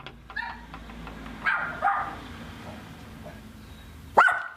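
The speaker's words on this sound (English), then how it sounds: "I'm greeted by a couple of things. One is a dog" A dog barks near a front door as it is opened, with a few short barks and yelps spread through the clip and a loud, close bark near the end, along with faint household clucking-like noises.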